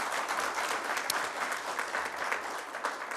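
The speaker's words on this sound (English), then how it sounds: "give a very big round of applause to Adil" Large audience at an HR management summit applauding, a broad, even wash of clapping that holds steady throughout, somewhat distant and moderately loud.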